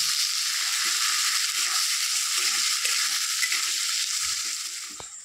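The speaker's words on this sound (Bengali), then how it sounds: "পেঁয়াজটা আমি ভালো করে ভেজে নিয়েছি।" Onions frying in oil with bay leaves and cumin, a steady loud hiss and crackle of sizzling that runs throughout with faint stirring scrapes beneath, easing off near the end.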